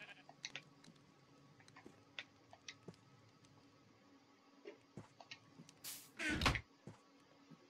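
Sheep bleating in the video game Minecraft, a loud burst near the end of the clip, preceded by scattered short clicks and soft blocky ambient sounds.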